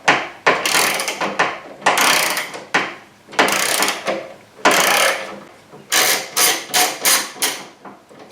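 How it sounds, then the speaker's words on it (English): A ratchet backing out an 8mm bolt on the rear hatch of a third-generation Camaro, with loud, close bursts of rapid clicking. Pauses between strokes give way to a quicker run of short cranks near the end. "Put a ratchet now. Take that all the way out."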